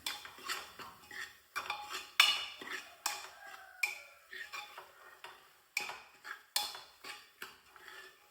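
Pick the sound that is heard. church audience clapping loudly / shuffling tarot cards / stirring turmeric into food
stirring turmeric into food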